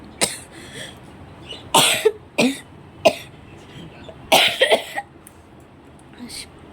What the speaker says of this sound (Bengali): কাশি হয়েছে